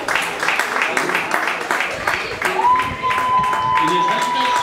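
Applause rings out at an athletics podium ceremony, a steady patter of clapping from the crowd running for several seconds while an announcer speaks over it and a thin sustained tone sounds.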